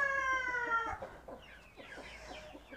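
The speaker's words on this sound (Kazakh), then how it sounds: "Міне жаңадан келген әтеш." A newly arrived rooster in a chicken yard gives a loud, close crow, then a string of short clucks, with no voices.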